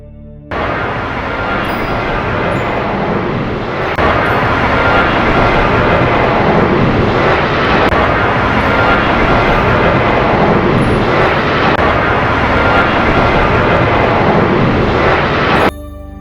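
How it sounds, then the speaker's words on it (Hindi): A fixed-wing airplane flies and comes in to land, its engine roar loud, broad and steady across the whole stretch, rising in after a brief quiet start and cutting off near the end. "विमान अपने गंतव्य पर सुरक्षित लैंड कर रहा था।"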